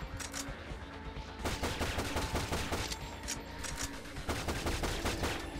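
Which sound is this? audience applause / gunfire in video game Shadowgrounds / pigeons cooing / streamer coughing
gunfire in video game Shadowgrounds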